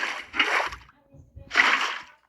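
Water being placed in the Minecraft video game, heard as two short splashing bursts separated by a brief quiet gap, fairly close and moderately loud with no talk over it.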